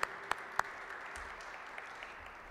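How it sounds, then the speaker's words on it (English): Audience applause for a presidential brass ensemble at a music education advocacy event, a steady wash of clapping with a few loud, sharp nearby claps standing out at the start before it settles to an even patter. "Give them another nice round of applause."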